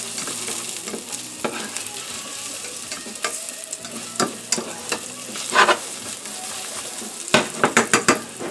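Shiitake mushrooms seasoned with a pinch of salt sizzle steadily in a pan, with sharp scrapes and taps of a utensil stirring them, louder clanks near the end, close and with no voices.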